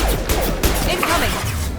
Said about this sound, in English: Firing an impact gun! That one hit!